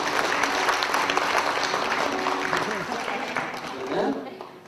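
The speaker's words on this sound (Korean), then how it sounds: "박수 한번 쳐주세요." Applause from the audience at a couples' class on anger and forgiveness, held by a district office; dense, steady clapping fills the whole stretch, with talk mixed in underneath.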